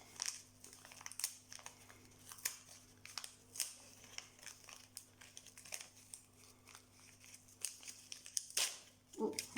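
A small pouch is opened at Christmas, with close, crisp crinkling and rustling of packaging in short irregular bursts and a few sharp snips or tears.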